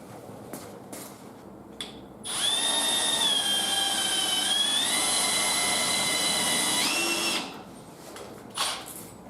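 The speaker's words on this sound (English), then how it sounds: "The instructions call for a 13 30-seconds drill bit. I don't have a 13 30-seconds individual, but my step bit has it right here." A step drill bit bores a hole for a rocker guard on a Jeep YJ, a steady high whine running about five seconds with a pitch shift partway, between quieter handling noises before and after.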